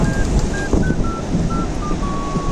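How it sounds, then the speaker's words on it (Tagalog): Strong wind lashes the seaside, where a coastal road is closed for the weather, roaring loud and close as constant broadband rushing, with thin whistling tones rising and falling above it. "Narinig nyo naman yung hagupit ng hangin."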